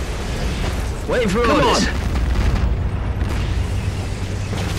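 Explosions and gunfire rumble through a World War II battle in the strategy game Codename: Panzers Phase Two, with low booms and bursts running under shouted voice lines and a whistling, falling effect partway through.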